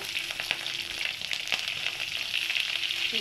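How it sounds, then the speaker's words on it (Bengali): Onions sizzling steadily in a hot pan with cloves, cardamom and bay leaf, browning as they fry, with occasional stirring clicks over a continuous bright crackle. "পেঁয়াজগুলো আমার বাদামি বাদামি করে ভাজা হয়ে গেছে।"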